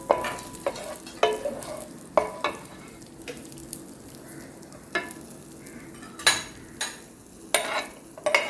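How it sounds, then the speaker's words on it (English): Cashews and raisins fried quickly in oil for a paneer biryani garnish, crisp sizzling broken by a dozen sharp spoon scrapes and knocks against the pan, close and fairly loud. "For garnishing, fry the cashews and the kismis"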